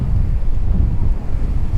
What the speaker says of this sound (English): Sorry about the wind, it's going to be like that all day.